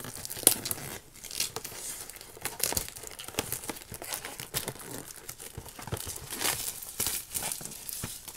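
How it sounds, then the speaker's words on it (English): Cellophane wrap being torn and crumpled off a boxed Atlas Editions Eddie Stobart fridge trailer model, a close, steady run of crinkling and tearing with sharper rips, no talk. "And off comes the cellophane onto the box itself."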